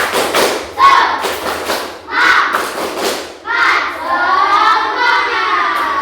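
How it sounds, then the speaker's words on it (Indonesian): Elementary class doing a rhythmic spirit clap on the teacher's cue, bursts of patterned clapping with children's voices chanting along, ending in excited shouting from the group. "Tepuk semangat."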